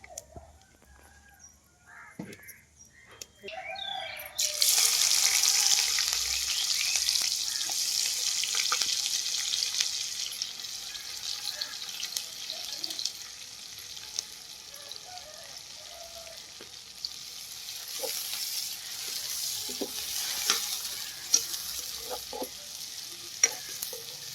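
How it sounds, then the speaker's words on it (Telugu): Onions added to hot oil in a pan for a Telugu gongura curry, a sudden loud sizzle that settles into steady frying, with intermittent stirring and scraping of a utensil against the pan. "ఇప్పుడు నేనైతే ఉల్లిపాయలు అయితే వేసుకుంటున్నాను"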